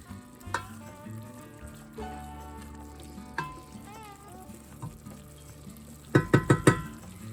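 Ground beef browning for chili in a pan, a soft sizzle under quiet stirring and poking, then a quick run of four sharp scrapes or taps against the pan near the end; close and fairly quiet.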